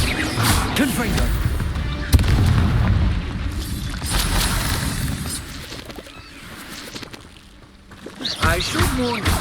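A Confringo fire spell explodes in Hogwarts Legacy combat, a loud booming blast with a sharp hit and rumbling low-end roar that gradually fades, amid other game effects, with a voice calling out spells.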